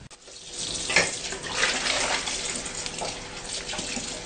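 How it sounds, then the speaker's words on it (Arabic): Tap water runs steadily into a kitchen sink while cups are washed, a continuous close splashing hiss with small clinks and shifts in the flow. "انا هنا هبتدي كده اغسل الكوبايات الاول، وبعدين اغسل بقية المواعين"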